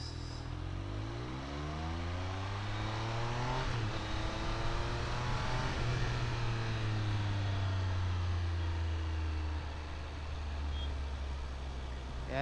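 A Triumph Speed Triple motorcycle rides along, its engine droning steadily with rising and falling pitch sweeps as it accelerates and shifts, heard from on board over continuous road and wind noise.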